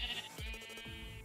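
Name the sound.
sheep bleating in a video game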